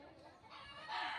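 A bird gives a short chicken-like clucking call, faint and close, a brief rising burst of squawky notes in a quiet outdoor setting.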